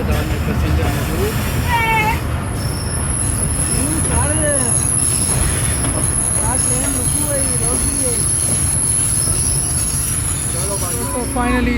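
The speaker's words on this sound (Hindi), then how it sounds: "तो फाइनली 7:05 पर हमारी ट्रेन आके पहुंची है जी कुटिया खास रेलवे स्टेशन के ऊपर" The Bulleh Shah passenger train pulls into Kutiya Khas railway station in Pakistan, wheels squealing loudly and repeatedly against the rails with steady rumbling and clatter, while voices murmur faintly on the platform.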